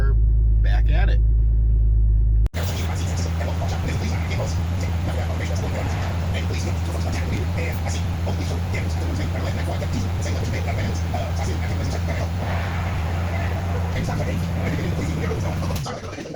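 Interior drone of a car on the road, a Ford XR4Ti project car with recurring fuel pump trouble, a steady low engine rumble and road noise sustained for many seconds after a brief louder start, without voices.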